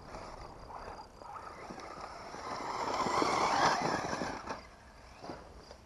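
A radio-controlled buggy on smooth tyres accelerates, its electric whine rising to a loud gritty rush of tyres scrubbing and skidding over the ground, then easing off with scattered crunches.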